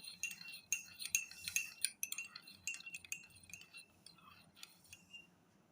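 Slaked lime, the kind eaten with betel leaf, being stirred into milk: a rapid series of bright metallic clinks and scrapes of a spoon against a bowl, dense at first and then thinning out, close and moderately loud.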